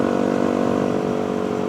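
A Fantic 125 motorcycle rides along at a steady speed, its engine holding a continuous, fairly loud drone with a faint buzzy texture, and nobody speaking.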